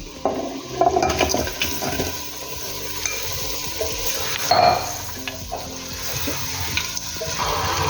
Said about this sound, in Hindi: मसाले को हम भून रहे हैं।